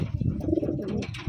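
A large bird, pigeon or dove in size, coos in low, soft rolling calls up close, repeated through the short stretch.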